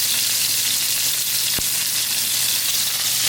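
Food frying in a Hexclad pan gives a loud, steady hiss and sizzle, with a single brief tap partway through and no voices.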